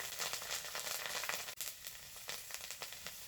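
Roasted nigella seeds and dried chilies sizzle in hot oil, a faint, continuous crackling fry with a sharp click midway.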